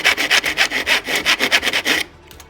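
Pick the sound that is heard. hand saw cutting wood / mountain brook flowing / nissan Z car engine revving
hand saw cutting wood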